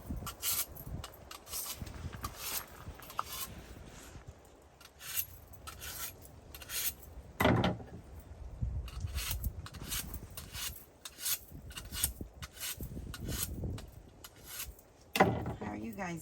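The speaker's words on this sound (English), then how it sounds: "Got our knives. Let me sharpen these up a little bit." Kitchen knives sharpened outdoors at a woodland cooking spot, heard as repeated close rasping strokes in uneven bursts with short pauses between them.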